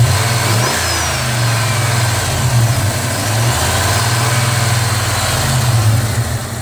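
A Jeep engine revs repeatedly through its throttle position sensor, loud and close, climbing and falling in several distinct swells over a steady idle.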